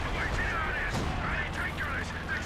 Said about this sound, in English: So much artillery there.